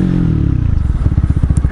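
A motorcycle with a loud aftermarket exhaust revs hard in first gear, a close, loud roar that settles into rapid rhythmic exhaust pulses as it accelerates.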